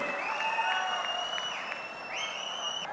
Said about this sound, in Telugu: గట్టిగా చప్పట్లు కొట్టి మనస్ఫూర్తిగా అభినందించండి ఆశీర్వదించండి